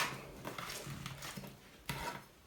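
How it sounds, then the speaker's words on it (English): A knife chops and crushes garlic on a wooden cutting board while ranch dressing is being made, giving steady close scraping and tapping strokes with a few sharper knocks. "So just keep chopping, bring it in together, crush it."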